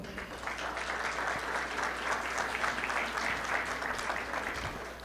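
Applause rises from a panel audience for the moderator, steady, dense clapping lasting several seconds at a moderate distance.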